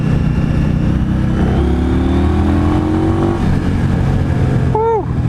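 A 2016 Indian Scout Sixty motorcycle accelerates hard, its engine note climbing steadily in pitch through a rising rev sweep. Loud and close with wind buffeting, followed by a brief higher whine near the end.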